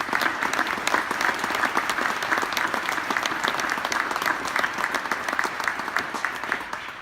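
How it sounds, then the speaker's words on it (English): A ceremony audience at an Army retirement claps for U.S. Army Band soldiers, a loud, sustained round of applause with crisp individual claps audible throughout, alone without speech. "Please join me in a round of applause for these great soldiers"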